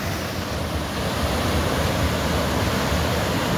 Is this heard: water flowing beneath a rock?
yes